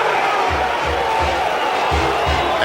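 A sellout stadium crowd roars steadily at Notre Dame Stadium as the top-ranked Florida State Seminoles take the field, with a dense, loud wall of cheering and rhythmic low thumps throughout.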